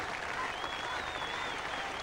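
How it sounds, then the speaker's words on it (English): A crowd at a 1977 England versus Australia Test cricket match applauds a bowler, a steady, dense wash of clapping lasting throughout with no voices standing out. "And Mike Kendrick will take a well-deserved round of applause for his wonderful bowling here."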